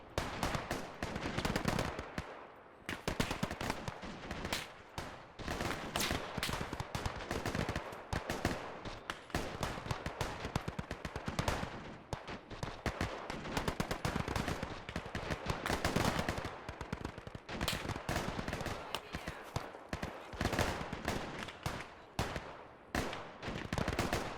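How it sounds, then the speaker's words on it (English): Dense, loud battlefield gunfire from Gates of Hell in a 1946 Soviet invasion of Alaska battle, with machine-gun bursts and single shots overlapping without a break. "Oh, that is such a good sounding gun."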